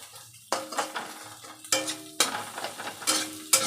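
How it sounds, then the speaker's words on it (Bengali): Fried Maggi noodles are stirred in a pan, with a spatula scraping and clinking against the metal in separate strokes over a light, steady sizzle. "দিয়ে সব নাড়াচাড়া করবো"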